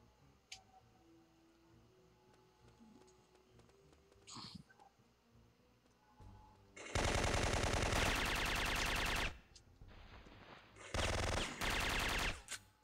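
Gunfire in the video game Syphon Filter 3, with long, loud bursts of rapid automatic fire in two sustained stretches. Before them come faint clicks and quiet game ambience.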